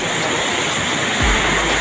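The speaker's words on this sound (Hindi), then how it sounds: "कितनी खोल रहा है पानी, खोल रहा है यहाँ पर" Canal water at the Sapan Hajara Nahar in Jhabar, Uttar Pradesh, rushes and churns in a loud, steady broadband roar, with a deeper low rumble swelling in near the end. No talk is heard.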